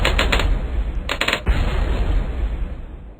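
Bloons Tower Defense cannon towers fire in rapid, clattering bursts, loud and close, with brief stuttering clusters of shots over a low, constant game-effect rumble.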